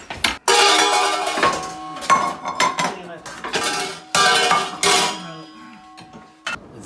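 Pots, pans and lids clang and clatter loudly up close while someone rummages through cookware for a lid, with repeated metallic crashes and ringing bangs in quick uneven bursts.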